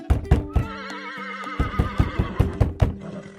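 A horse on a farm whinnies loudly in a long, wavering neigh, with rhythmic clip-clop hoof thuds punctuating it from start to finish.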